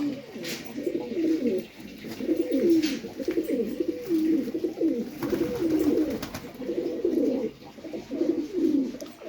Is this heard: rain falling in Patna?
no